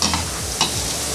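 Onions and potatoes fry steadily in a pan with a constant dense sizzle, joined by a couple of faint stirring clinks, no voices.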